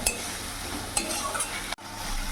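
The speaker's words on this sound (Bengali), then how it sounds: "এবার মশলাটা আমি কিছুক্ষণ কষে নেব, যতক্ষণ না মশলা থেকে তেল ছেড়ে দিচ্ছে।" Spices and large tomato pieces are stir-fried in a pan over low heat, a continuous close sizzle broken by scraping stir strokes and a brief clatter before the frying resumes.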